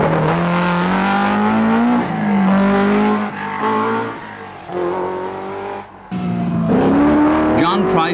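Rally cars at the 1983 Donegal International Rally, loud engines revving hard and climbing through the gears, rising and falling with each shift and surge of acceleration, one car following another up close.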